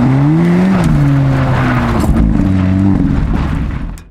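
Car engine picked up by a magnetic microphone stuck directly on the car body during a filmed car shoot, a loud close revving drone with shifting pitch and tire noise, heard alone.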